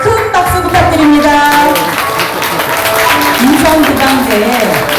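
Audience applause at a civic gathering in Incheon, a broad steady patter of clapping lasting throughout, partly masked by voices and tonal sounds layered on top.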